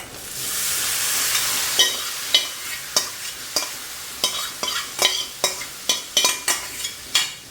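Shrimp drop into a hot pan for a long bean stir-fry and sizzle loudly, followed by a steady run of rhythmic spatula scrapes and knocks close up.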